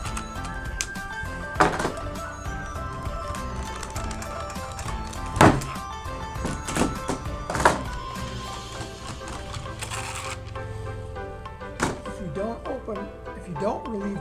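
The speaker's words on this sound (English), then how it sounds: "Open up the clamps." Clamps on a pressurized bladder mold for a tube are undone, giving a few dull, uneven thunks and clacks at close range. Someone talks over the sounds the whole time.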